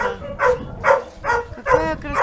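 A fox-like dog yips and barks in short, high bursts, five or six close calls in a quick uneven rhythm, loud and near.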